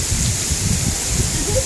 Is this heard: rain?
yes